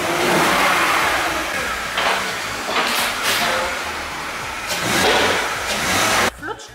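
An unwanted used car's engine runs and revs during repair work, swelling and easing in loud surges, then cutting off abruptly near the end.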